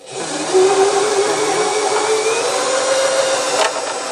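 An Elna 340 sewing machine runs steadily at speed with the foot pedal pressed down, giving a loud, continuous close-up motor whir with little change in pitch and no voices for about four seconds.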